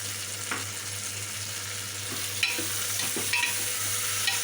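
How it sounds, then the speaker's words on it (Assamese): Tomatoes tossed into a pan of fried ginger and garlic, stirred with steady hissing sizzle and scattered scraping clicks of the spoon, close and continuous with a low hum beneath. "এতিয়া আমি ইয়াতে দি দিম বিলাহীখিনি।"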